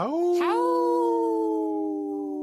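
A single long, steady howl with a clear tonal pitch that swells in loudness and then holds for a couple of seconds, sounding close and alone, fitting wolves howling.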